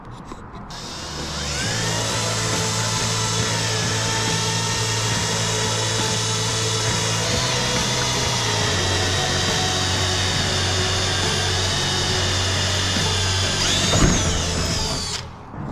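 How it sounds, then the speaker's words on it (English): A power drill spins up and drills steadily for over ten seconds into a Bearhawk aircraft wing spar cap mock-up, its whine dipping slightly midway, then winds down with a brief rattle at the end. "So I'm going to drill that."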